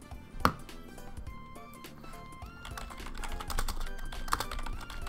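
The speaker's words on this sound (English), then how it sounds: "That keyboard is so loud." Rapid, loud clacking of a computer keyboard, close up, with dense bursts of keystrokes and a sharp hit early on, played over faint game music.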